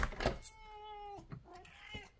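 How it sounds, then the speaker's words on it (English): A house cat meows at a door to be let in, two drawn-out nearby meows with a short pause between, moderately loud in a quiet room. "That's my cat that wants to come in."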